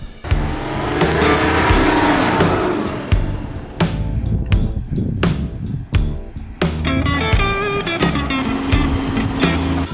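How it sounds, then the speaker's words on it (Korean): Volkswagen Touareg 3.0 V6 diesel driving over Sahara desert sand dunes, engine roaring loudly and steadily, surging and easing in bursts as it climbs and descends, with brief sharp dips between pushes. "여기를 이제 넘고 다시 내려오고 이런 일을 반복을 할 겁니다."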